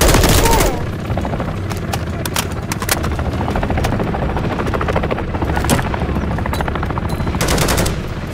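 An attack helicopter in Call of Duty: Modern Warfare III thumps loudly overhead, its rotor churning steadily while bursts of machine-gun fire and scattered gunshots crack through the combat.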